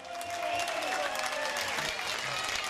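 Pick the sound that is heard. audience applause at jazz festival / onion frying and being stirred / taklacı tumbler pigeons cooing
audience applause at jazz festival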